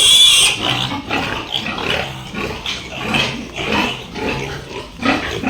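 A pig grunts and snorts repeatedly in a steady, close sequence, loud and alone.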